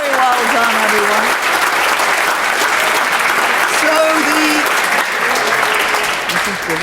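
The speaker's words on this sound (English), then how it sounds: "So stop the clapping." Youth parliament members give loud, sustained applause in the House of Commons chamber after a vote result is announced. The dense clapping runs unbroken throughout, with cheers and raised voices mixed in.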